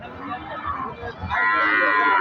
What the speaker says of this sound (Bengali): আজকে কিন্তু গাভী গরু হাটে প্রচুর আমদানি হয়েছে